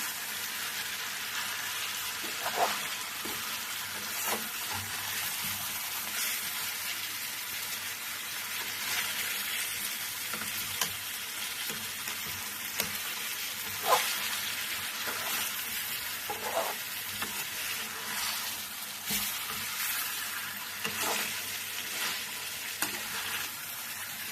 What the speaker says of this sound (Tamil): நல்லா எல்லாம் திருப்பி எடுத்துக்கலாம் கொஞ்சம் கொஞ்சமாக எண்ணெயில் அப்படியே